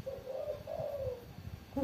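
A female spotted dove coos in a low, soft, drawn-out call, two mellow notes heard fairly close over faint background noise.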